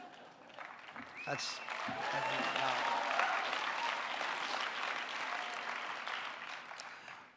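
Audience applause at a Voices for Gaza benefit event, steady broadband clapping that swells after the first second and holds throughout, with a voice speaking briefly over it.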